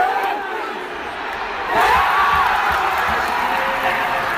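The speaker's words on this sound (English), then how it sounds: "one thing that always gets the players hyped is the crowd, the fans, the student section" A large basketball video game crowd roars and cheers continuously, swelling louder midway with whoops and shouts rising above the steady din.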